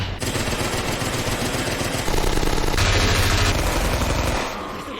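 Relentless WW2 gunfire in the video game Rising Storm, overlapping machine-gun bursts and rifle shots forming a loud, continuous rattling barrage that swells in the middle and tails off at the end.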